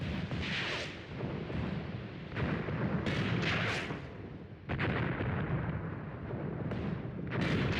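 Heavy tank cannon fire and explosions in the WWII video game Tank Warfare: Tunisia 1943, a continuous barrage of loud booming blasts and rumbling impacts with sharp bursts recurring every second or so.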